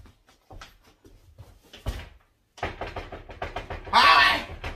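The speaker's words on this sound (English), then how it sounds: "Howie, open up the door!" Knocking on a door at a football team's training complex: several sharp raps in quick bursts with pauses between, then a louder, brighter bang near the end, with a voice mixed in.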